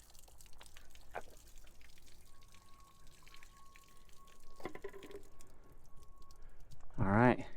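Water poured over a welded patch on a Cat D3 LGP bulldozer, with scattered drips and splashes against metal, a brief louder gush near the end, and faint background noise throughout.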